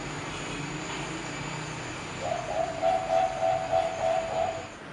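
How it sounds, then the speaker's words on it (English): An owl on Alor gives a thin, steady whistled note that starts partway in and holds with slight wavering over a hiss of ambient noise, moderately faint and unaccompanied by talk. "And when I make my own recording of the owl on Alor,"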